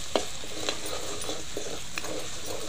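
Turmeric being stirred into food cooking in a pan for a village-style boti curry: a few soft spoon scrapes and taps at irregular intervals over a low, steady background sizzle, no talking.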